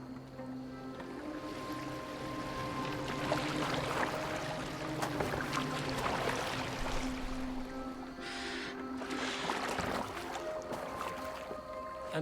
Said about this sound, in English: Are you well enough to steer this boat?